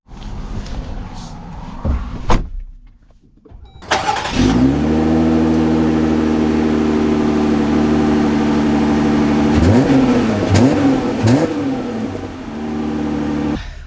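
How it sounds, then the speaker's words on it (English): A 2025 Jeep Gladiator Mojave X pickup starts, then its engine revs and accelerates loudly and steadily, the pitch rising and dipping through gear changes, heard from inside the cabin. "let us set off in the Gladiator Mojave"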